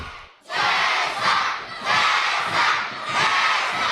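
A school gym full of children at an Olympic watch event cheers and shouts loudly, the roar of the crowd surging in waves with echoing reverberation, no clear individual voices.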